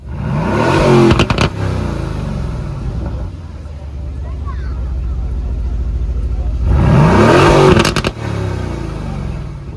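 An Aston Martin F1 edition sports car revs twice in sharp, loud bursts, each followed by rapid crackles and bangs from the exhaust, with a lower idle rumble between the blips.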